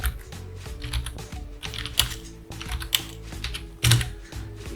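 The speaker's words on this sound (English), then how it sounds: "Let's type" Typing on a computer keyboard, a steady stream of close clicky keystrokes in uneven bursts with a few louder key hits, no talking.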